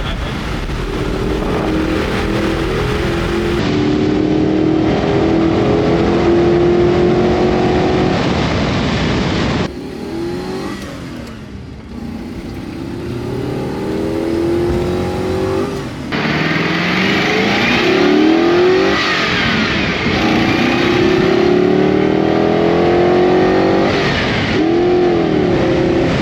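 Lamborghini Murcielago V12 engine roaring loud and close from inside the car, rising and falling through revs for about half a minute with a brief quieter dip midway.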